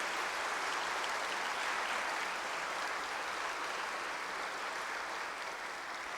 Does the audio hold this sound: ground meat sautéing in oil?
no